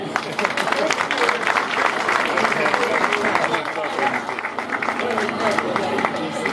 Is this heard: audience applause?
yes